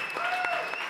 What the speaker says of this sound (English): So give Bill a round of applause, you know.